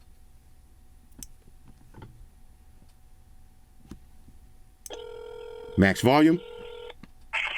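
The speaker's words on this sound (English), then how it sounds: "now let's try an actual phone call" A phone call placed from a Samsung Galaxy Watch 5 Pro, with a few faint clicks, then a loud electronic dialing tone and a rapid run of keypad tones, close and clear after a short spoken remark.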